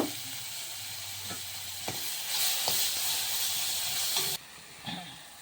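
Onion paste with garlic, ginger and chilli powder fries in oil in a home kitchen, a steady close sizzle with occasional stirring clinks that drops quieter near the end.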